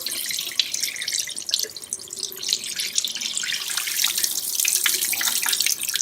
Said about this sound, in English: What I'm going to do is run cold water over this surface to remove this remaining ice.